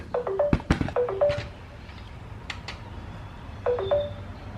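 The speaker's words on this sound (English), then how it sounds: "Shut up, phone." A phone sits in a garage workshop and gives off a series of short electronic beeping tones in two bursts, with brief knocks and sharp clicks in between.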